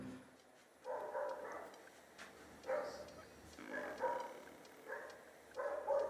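Several muffled dog barks repeat at a moderate distance, coming in short separated bursts over a faint background.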